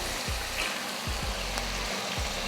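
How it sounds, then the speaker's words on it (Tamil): Half a kilo of chicken sautés in masala in a pan with separated oil, a constant close sizzle broken by a few soft low thumps of stirring, no voices. "ஒரு 3லேருந்து ஒரு 4 நிமிஷத்துக்கு இந்த சிக்கன் வந்து இந்த மசாலா கூட வதங்கட்டும்."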